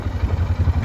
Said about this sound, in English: Here's my tractor.